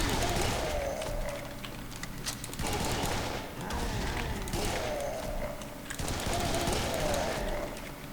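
Rapid bursts of shotgun-style gunfire in the video game Serious Sam 3: BFE, firing in three or four dense volleys with short gaps between, loud and close, with enemy noises mixed in.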